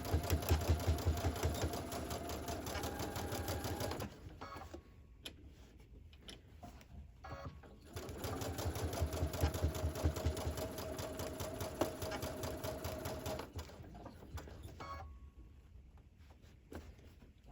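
A domestic sewing machine stitches long seams in two sustained runs of fast, even whirring, stopping in between for quieter handling sounds before starting again.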